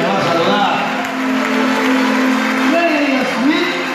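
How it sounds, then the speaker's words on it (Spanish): Church congregation applauding at the closing of a week-long campaign: a dense, loud wash of crowd clapping and cheering, with a voice talking and tones sliding over it. "Vamos a recibir con un fuerte aplauso"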